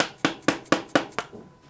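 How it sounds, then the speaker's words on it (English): Steel hammer striking a punch to drive out a press-fit bicycle bottom bracket from the frame shell: five sharp metallic knocks at a steady rhythm, close and loud, followed by a quieter tap. "you just have to get some sort of punch, a good steady hammer, and pop out one side"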